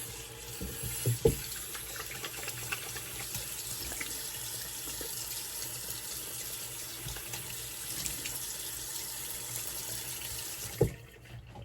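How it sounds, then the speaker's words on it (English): A tap runs steadily into a sink, a soft, even rush of water close by, with a couple of brief knocks at the start and end as alum is rinsed off after a shave. "Okay, let's rinse off the alum."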